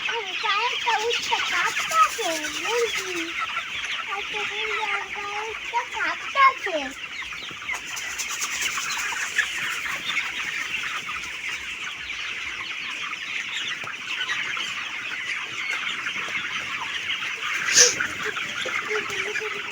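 Chickens cluck steadily inside a poultry shed, a dense flock murmuring throughout with a few louder calls rising above it and a brief sharp squawk near the end, no talk.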